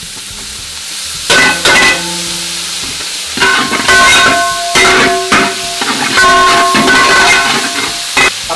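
Shallots and green chillies sizzling in a hot pan during a Kerala chicken roast, a steady close hiss with bursts of spattering and the scrape of stirring, with no talk.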